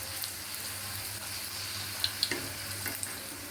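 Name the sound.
luchi (puri) deep-frying in white oil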